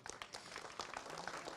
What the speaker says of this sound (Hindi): जेई साहब के लिए जोरदार तालियां।